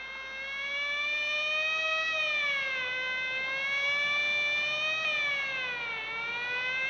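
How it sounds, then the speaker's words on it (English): A police car siren wails in long, slow rising and falling sweeps, steady and fairly loud, with no voices over it. "Quite unnecessary use of that siren"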